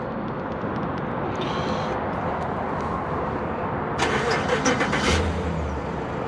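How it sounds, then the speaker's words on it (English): A 2020 GMC Yukon SLT with a 5.3-liter V8 makes a cold start on a chilly day. A quiet background comes first, then the engine cranks and catches with a burst around four seconds and settles into a rumbling idle. "And let's do a quick little cold start."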